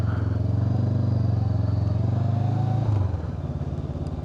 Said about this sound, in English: Let's practice an emergency stop.